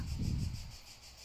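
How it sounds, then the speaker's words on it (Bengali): Faint crickets chirp in a quick pulsing rhythm, with a low rumble underneath at first that fades away. "ঝিঝি পোকা ডাকতেছে"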